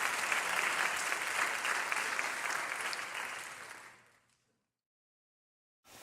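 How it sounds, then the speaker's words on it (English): Audience applause for two debaters at a 2018 educational equity debate in Tulsa, a loud sustained round of clapping from a crowd that fades out and drops to silence. "One more round of applause for CJ and Josh."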